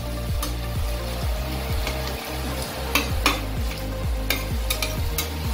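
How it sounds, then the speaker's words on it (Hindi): Chopped onions fry in a pan for Ghati-style chicken sukka, with a steady loud sizzle under regular scraping stir strokes that repeat about every half second, with no talking. "अभी हम इसको फ्राई करेंगे, जब तक ये गोल्डन ब्राउन ना हो जाए तब तक इसको फ्राई करेंगे।"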